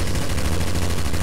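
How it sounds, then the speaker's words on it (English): Rapid automatic gunfire in Garry's Mod's The Hidden mode, several players shooting at once in a loud, continuous, dense burst with no pauses. "We're all shooting him."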